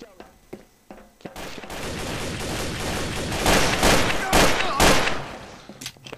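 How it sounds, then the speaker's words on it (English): Gunfire in the game Trouble in Terrorist Town, a few sharp shots followed by a sustained burst of rapid loud fire that rises and then breaks off, under game noise with voices talking. "Well, we're shooting."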